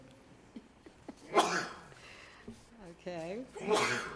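A single sharp sneeze bursts out amid a man's speech, with talking before and after it.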